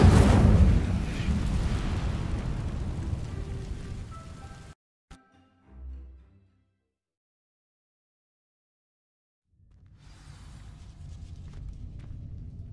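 Incendio fire spell cast in Hogwarts Legacy, a loud crackling, roaring burst of flame up front that stops suddenly, then a few faint pops, silence, and a softer rumble returning at the end.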